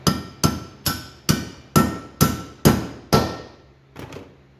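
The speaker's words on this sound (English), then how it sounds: "Get a hammer." A hammer strikes a driver tool to tap a bushing out of an Evinrude 9.5 HP outboard, giving eight evenly spaced sharp metallic blows, loud and close, and then a softer double tap at the end.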